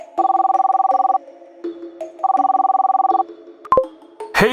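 A telephone rings in two long electronic bursts of rapid warbling tone, each about a second, separated by a short quiet gap, loud and close, followed by brief clattering handling noises.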